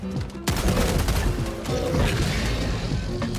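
Dense gunfire from Helldivers 2 as a Charger's left leg is shot: loud, continuous bursts after a quiet first half-second, with crashes and booms layered over the rapid shots.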